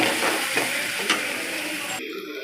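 Onions sizzle in a hot pan, a continuous close frying hiss with a couple of stirring scrapes, cut off abruptly near the end.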